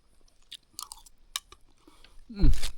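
Chewing and crunching of food while eating alone at a forest camp, a few soft bites early on followed by one louder, closer crunchy chew at the end.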